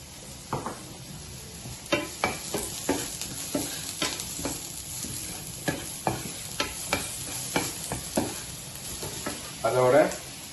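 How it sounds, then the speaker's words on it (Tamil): Onion and curry leaves sauté in hot oil, a steady sizzle broken by repeated sharp scrapes and clinks of a spoon stirring against the pan, close and fairly quiet. "வெங்காயம் கருவேப்பிலை போட்டு இதை வதக்க போறோம்."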